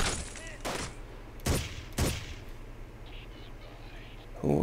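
Gunshots in the tactical shooter Ghost Recon, a few sharp cracks spaced about half a second apart early on, then a quieter stretch and one more burst at the end.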